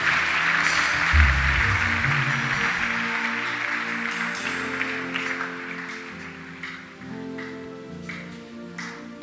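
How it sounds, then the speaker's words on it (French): Church congregation applauding during a worship service, a dense, steady clatter of many hands with music tones underneath, gradually thinning and fading over several seconds. "Acclamons le Seigneur."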